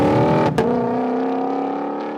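Ford Mustang GTD engine holding a loud, steady drone with a sharp break around a quick gear change, then settling into a smooth, sustained tone, heard close with no talking.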